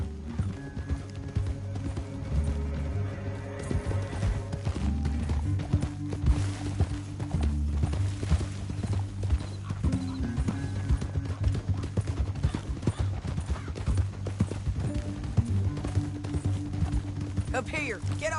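Horses gallop in Red Dead Redemption 2, a steady run of clip-clop hoofbeats under music and game sounds that lasts throughout, with a whinny here and there.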